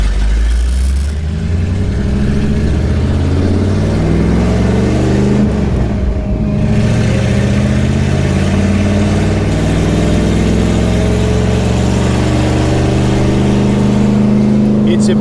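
A 1977 Dodge Aspen with open headers and a lumpy cam idles close by, its deep, loping rumble pulsing steadily and loud for the whole stretch.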